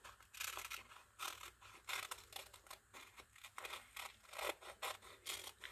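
Scissors snip steadily through paper for an art journal, a quick run of close, soft crisp cuts and rustles with no talking.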